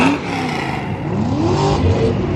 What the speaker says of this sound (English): Oh, he's revving it.